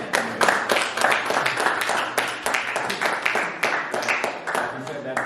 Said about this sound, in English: I would like to clap it up for y'all being honest and transparent